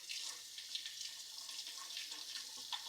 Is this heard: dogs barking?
no